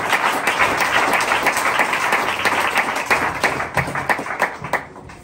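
A church congregation bursts into rhythmic clapping and applause to acclaim the Lord, many hands close together and loud, tapering off near the end.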